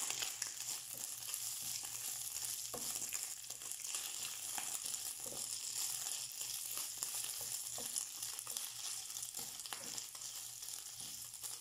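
Fried rice sizzling and frying in a pan, a steady dense crackle with occasional stirring scrapes, close and continuous with no talk.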